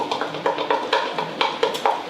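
Protein donut batter made with yogurt is stirred briskly in a bowl, giving a quick run of rhythmic, close scraping clinks, about two strokes per second.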